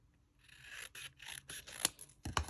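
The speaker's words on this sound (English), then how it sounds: "cut these guys about halfway down" Paper card is cut with snips while making a pop-up gift card holder: a series of short, crisp, close snipping cuts separated by brief pauses, ending in a louder rustle of handled card.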